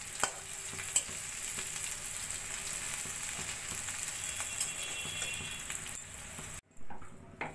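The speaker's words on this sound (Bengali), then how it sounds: "একইভাবে আমি বাকি কোপ্তাগুলো ভেজে নেব।" Cauliflower koftas fry steadily in hot oil, a continuous close sizzle with occasional spoon taps, before the sound cuts off abruptly near the end.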